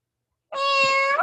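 A person imitates a cat with a single loud, close, drawn-out meow that starts abruptly after a short silence and bends in pitch at the end.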